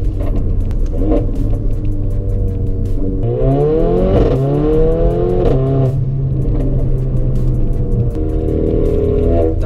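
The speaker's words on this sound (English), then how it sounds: "Downshifting when you're hard on the brakes is great too" A 2018 Mercedes GLA 45 AMG engine blips and drops through gears under hard braking, its loud rumble rising and falling in rapid bursts against steady road and cabin noise, with no talking.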